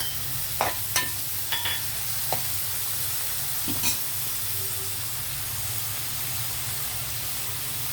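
Onions and tomato fry in a pan with a steady, dense sizzle and hiss, broken by a few sharp clicks and scrapes of stirring near the start.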